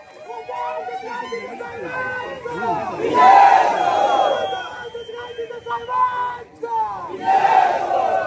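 A crowd at a Maha Vikas Aghadi political rally in Wai, Satara, roars and cheers for a candidate, rising in loud swells around a shouting voice, with surges near the middle and the end.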